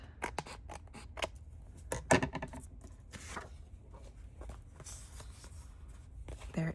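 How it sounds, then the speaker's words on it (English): Scissors cut through old packaging for a junk journal, giving close, irregular snips and crinkly handling sounds, with soft talking in the background. "Trying to concentrate while I cut."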